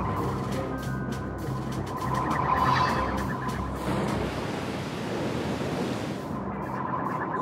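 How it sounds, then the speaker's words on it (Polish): An approaching sea storm in an animated ocean-adventure cartoon: a steady roar of surf and wind that swells midway, then settles into a rushing wash, with no voices. "Sztorm jest już coraz bliżej."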